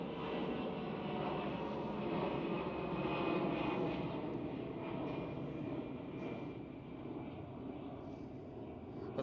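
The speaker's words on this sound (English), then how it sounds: "Lufthansa Airbus A319." A Lufthansa Airbus A319 passes at Amsterdam Schiphol, its engine roar swelling and then easing over several seconds, moderately distant and with no talk over it.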